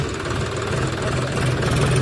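A tractor engine idles in a farm field with a steady, close, loud low rumble and knocking vibration, and no voices.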